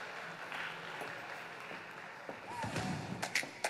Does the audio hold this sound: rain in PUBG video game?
no